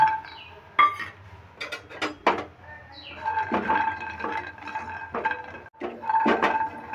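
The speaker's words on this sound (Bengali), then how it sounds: "এবার আমি গরম কড়াইয়ে বা শুকনোতেই আমি বাদামগুলো ভেজে নেব।" Peanuts dry-roasted in a hot wok rattle and clatter in uneven bursts as they are stirred, with sharp scraping clinks between quieter gaps, close and loud with no talk.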